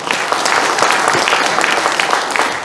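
An audience at a Korean book launch and talk show in a cultural center applauds, a loud, dense, steady clapping that fills the room from start to end.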